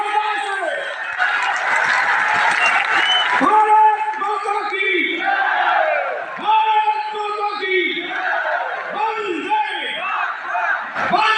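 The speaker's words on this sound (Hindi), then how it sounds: "दोनों हाथ उठाकर ताली बजाकर अमित शाह जी के अभिनंदन करिए" A large crowd at an Indian election rally for Amit Shah in Rahika roars and chants in loud, rhythmic bursts of shouting and cheering. The voices are close and dominant, and any clapping is lost beneath them.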